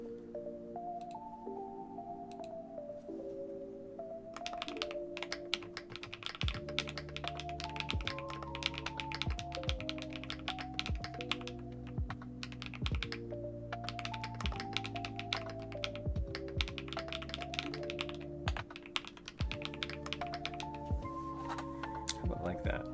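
Fast clacky typing on an Epomaker Split65 mechanical keyboard, a dense run of taps and thocks starting a few seconds in, quiet under background music with a person talking.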